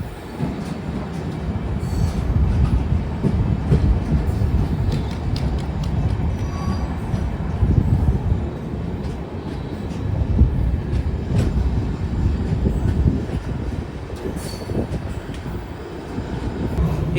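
Hubli–Nizamuddin express 20657 on its first commercial run pulling out of a station, a steady loud rumble of wheels and coaches rolling past close by with no talk.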